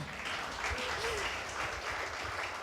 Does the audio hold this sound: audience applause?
yes